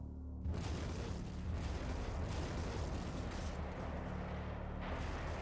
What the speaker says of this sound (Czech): Čtyři výbuchy.